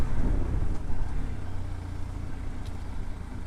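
A 2026 TVS Apache RTX 300 adventure motorcycle accelerates to overtake, engine drone rising under heavy wind rush from riding, loud and close without talk.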